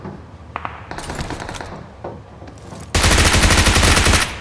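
Gunfire from the BGMI mobile battle game, with scattered single shots and short bursts followed by a loud, sustained rapid burst of automatic fire, heard alone without talk.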